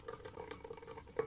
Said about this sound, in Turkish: Ardından 2 diş rendelemiş olduğum sarımsağı da ekleyip çırpıcı ile karıştırıyorum